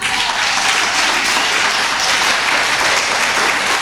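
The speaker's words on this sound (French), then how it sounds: "On peut applaudir les mamans dans cette salle." A church congregation claps for mothers during a special service, steady dense applause filling the room throughout, loud and close with no talk over it.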